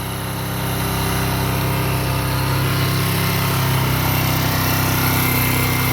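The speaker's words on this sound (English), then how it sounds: "And then start the bike." A Suzuki GN125 motorcycle engine runs loud and close after starting, a steady buzzing drone held around 4,000 rpm without a break.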